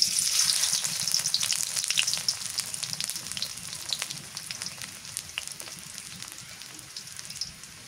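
Onion sizzling in mustard oil in a wok in a village kitchen, a crackling spit of frying that starts fairly loud and slowly softens over several seconds, heard alone without talk.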